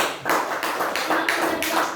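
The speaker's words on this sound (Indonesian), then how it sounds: "Beri tepuk tangan sekali lagi buat Novel." A primary school class claps hands steadily for a couple of seconds, dense and fairly loud, like a room full of people applauding together.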